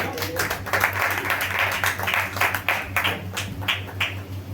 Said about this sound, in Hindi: ध्यान से ताली बजाएंगे खुदा के।